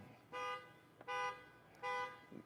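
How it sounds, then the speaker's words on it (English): A car alarm at an outdoor campsite blares in three even, steady honks about half a second each, moderately distant, with faint background ambience between them. "Somebody hit the alarm."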